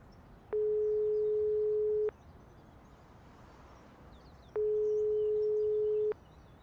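Unanswered phone call in the video game Broken Sword 5, two long, steady ringback tones separated by a pause, heard alone over quiet background hiss.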